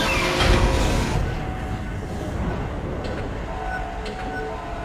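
Tram moving through the Dead Space video game, a loud, continuous low rumble and rattle of rail cars, strongest at the start and then settling into a steady drone.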